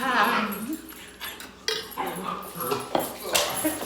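A pet dog whimpers and gives short yips and barks close by, mixed in with people talking and the clink of cutlery at a table.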